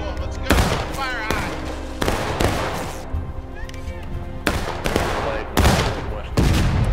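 Musket volleys in War of Rights, a Civil War line-battle game: repeated loud, ragged bursts of massed rifle fire crackle through the scene, with voices shouting in between.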